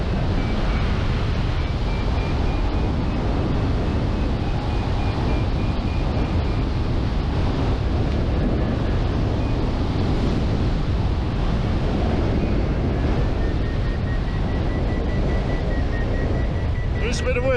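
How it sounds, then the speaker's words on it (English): Steady roaring wind rushing past a hang glider in flight along cliffs, loud and continuous buffeting throughout, with a faint thin tone drifting above it. "There's a bit of wind."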